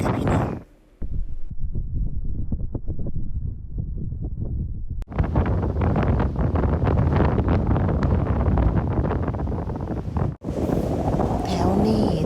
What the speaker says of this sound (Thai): ลมแรงมากสวยอยู่ค่ะ